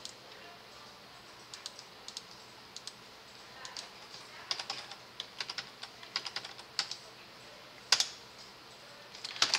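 A computer keyboard is typed in bursts of quick clicks for editing-software shortcuts, the keys tapping close and crisp at irregular moments, sometimes in rapid clusters, with one sharper press toward the end and quiet room noise in between.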